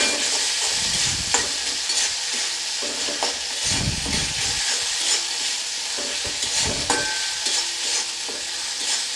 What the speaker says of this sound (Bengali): দিয়ে এটা ভালোভাবে আমি কষিয়ে নেব।